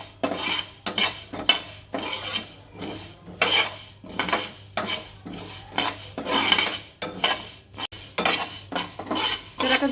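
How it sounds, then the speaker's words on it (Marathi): Coriander seeds dry-roasting in a pan for raw mango pickle, stirred with a spoon in repeated scraping strokes and rattles, close and fairly loud, with a low steady hum beneath and no talk. "धने पण आता मी परतून घेणार आहे"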